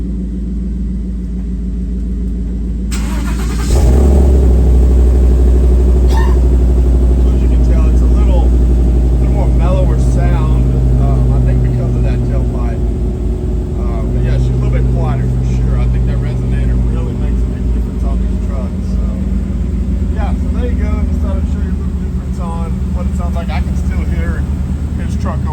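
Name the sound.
2019 Ford F150 Coyote 5.0 engine with MBRP exhaust running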